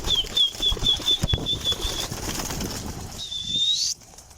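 Wings flap in quick bursts close by as pigeons take off, with a high whistling tone running underneath.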